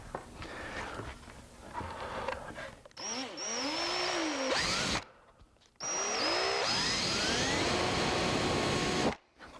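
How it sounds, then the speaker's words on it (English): A power drill with a brad point bit whirs in two sustained bursts, its pitch rising and falling as it bites into wood, with a short pause between runs. "I'm just going to drill it just a little bit below."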